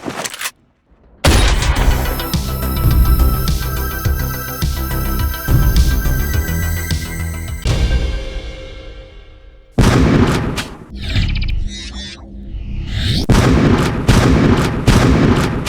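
Shotgun fire from FPS video games, a close, loud series of heavy booming blasts with mechanical clacks and ringing tails between them, briefly broken by a short quiet gap, with no voices.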